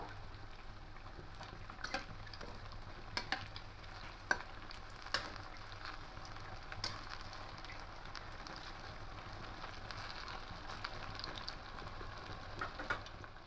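Potato and semolina snacks fry quietly in oil, a soft hiss broken by irregular sharp crackles and pops close by.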